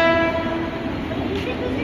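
A train horn sounds briefly at the start, then a Mumbai suburban local train rumbles and clatters steadily nearby at a railway station, in rain.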